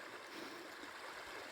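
Chew Brook, a small Peak District stream below a footbridge, flows in a steady broadband rush and gurgle, fairly distant and even, with no voices.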